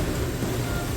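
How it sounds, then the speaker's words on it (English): A steady, broadband whooshing hum of a kitchen fan running continuously while chili cooks, even and unchanging throughout with no other sounds. "I am so sorry that fan is on."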